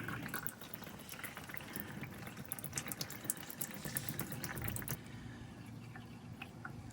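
Diesel fuel drains from a removed fuel filter on a 2024 Chevrolet Silverado 1500, a steady close splashing trickle that thins toward irregular drips at the end.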